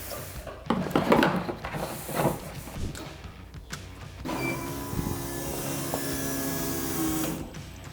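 Fuel being poured into the tank of a car with a turbo engine swap, a burst of handling noise followed by a steady gurgling, sloshing flow with a faint whine underneath.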